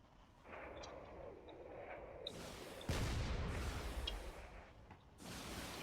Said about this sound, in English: holding its ground, firing as many cannon shells as it can from a distance